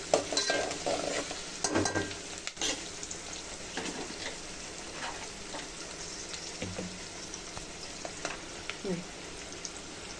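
Finely chopped onions stirred and lightly roasted in a pan while making vatana bhat, with a steady soft sizzle, scraping spoon strokes and occasional clinks, close by and without talking.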